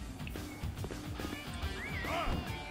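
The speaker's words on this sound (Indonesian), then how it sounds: "gue pengen manggil kuda dulu" A horse neighs in Dynasty Warriors 6, a clear rising whinny near the end over busy game ambience and hoof sounds.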